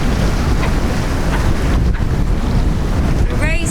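A sailboat races in strong wind at sea, heavy wind roar buffeting the microphone, with water and waves rushing steadily around the hull, loud and continuous with no talking.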